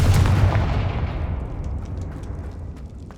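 A Confringo fire spell blast in Hogwarts Legacy booms out as a loud, close explosion that decays into a long rumbling tail, with faint later clicks.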